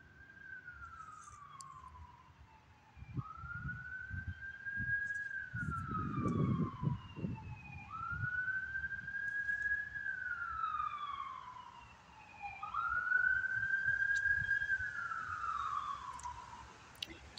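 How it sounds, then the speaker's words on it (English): Wailing sirens rise and fall in long sweeping cycles, steady and fairly loud, with low traffic rumble underneath. "Does the sound of sirens set off your PTSD?"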